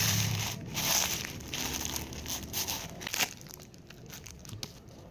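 A folded sun-and-rain umbrella slid back into its plastic bag, giving a close, steady crinkling and rustling of plastic with brief crunchy bursts, and no talking.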